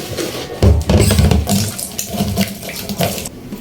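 Tap water pours steadily into a kitchen sink, a loud close continuous splash with shifting texture throughout and no voices.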